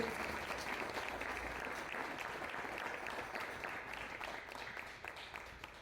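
Strong applause from a church congregation honoring God at a worship service, a dense, steady wash of many hands clapping that holds loud throughout and eases slightly toward the end.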